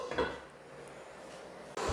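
A spoon scrapes and clanks against a metal pot while thick Kerala-style mutton curry is stirred, a few close metallic knocks followed by a softer steady rustle, with no voices.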